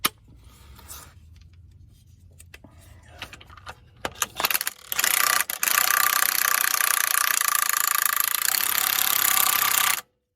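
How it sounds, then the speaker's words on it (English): A close, loud impact wrench tightens bolts on a Case 188D tractor chassis in a long sustained burst, following metallic clinks and rattles of parts being handled. "go back to our impact here and see if we can suck these up"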